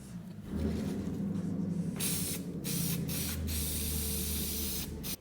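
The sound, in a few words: spray glue being sprayed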